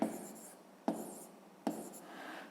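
A pen writing on paper in a math lesson, three soft scratchy strokes each starting with a small tap, close and quiet, with faint murmured speech.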